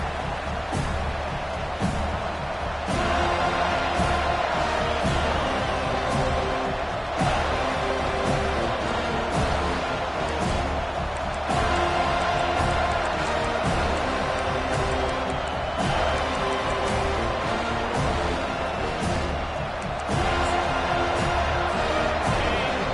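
Stadium crowd roaring steadily in the College Football 25 video game, a dense, continuous wash of cheering with commentary voices over it throughout.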